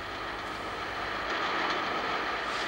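A metro train running on rails, a steady loud rumbling roar with faint clattering throughout, heard close and without speech.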